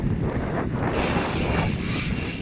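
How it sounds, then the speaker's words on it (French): Wind roars across the microphone of a cyclist riding into a headwind, a steady, loud rushing buffet throughout. "Alors face au vent c'est dur hein"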